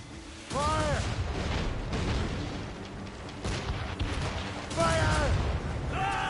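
Booming naval cannon volleys fired from a warship in the Assassin's Creed Rogue video game, loud repeated blasts under shouted commands and crew voices, with bright whistling streaks as shots fly.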